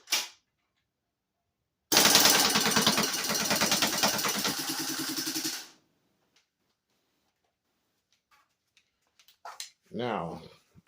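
An S&T Matrix gas blowback airsoft rifle fires a long full-auto burst of rapid, loud mechanical clatter lasting several seconds. Silence follows, then a short stretch of speech.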